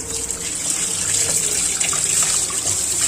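Tap water runs steadily and gushes over fresh fish being washed in a home kitchen, a continuous close splashing that carries on throughout with no talk.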